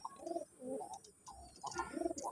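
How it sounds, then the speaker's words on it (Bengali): Male red and sky-blue golla pigeons in a loft, cooing and calling in repeated rolling, throaty bursts with short pauses between them, soft and close, with no talking. "দেখেন নরগুলি কীভাবে ডাকাডাকি করতেছে"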